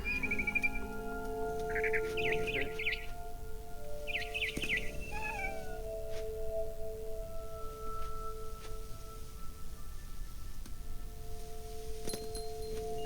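A cat in What Remains of Edith Finch gives a few short meows early on, close and clear, followed by quieter ambient outdoor sound with faint bird-like chirps and no speech.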